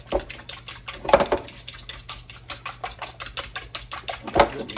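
Eggs and buttermilk are whisked in a bowl, giving a rapid, even run of close, moderate ticking strokes with a few louder knocks against the bowl's side, and no talk.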